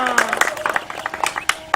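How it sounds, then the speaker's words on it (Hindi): An audience at a village council election campaign gathering claps in scattered, uneven bursts, while a voice carries on over the applause. "तालियां!"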